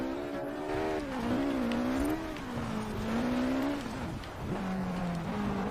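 Peugeot 205 engine in the racing game Forza Horizon 4, revving and shifting pitch steadily through a drift on a rally or hill climb course, loud and continuous with no talk.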